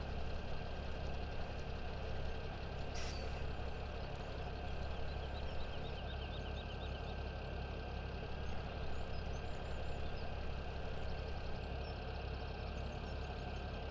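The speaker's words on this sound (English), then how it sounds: "I'm just kind of letting the tractor idle" A tractor engine idles in Farming Simulator 17, a steady low mechanical drone that runs unbroken and fairly loud the whole time, with faint game ambience above it.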